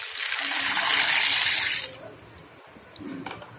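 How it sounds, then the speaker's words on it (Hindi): Pasta boiling in salted, lightly oiled water in a wok gives a loud, steady bubbling rush for nearly two seconds, then drops to a quieter simmer with a small splash near the end. "देखिए फ्रेंड्स, हमारा पास्ता बॉईल हो रहा है"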